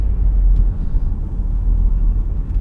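Steady low engine rumble from a car with a bad motor and a brand-new turbo, a continuous loud drone close by with no talk over it.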